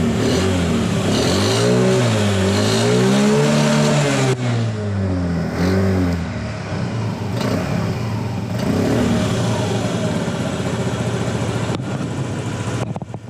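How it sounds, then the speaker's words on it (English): A Honda Ruckus scooter engine revs up close in a garage. Its pitch rises and falls in a couple of swells before it settles into a rough, rattly idle. "Let's give her a couple of revs."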